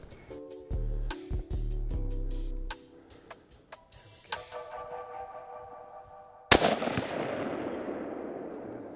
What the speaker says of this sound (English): I'm gonna try to shoot the one in the middle.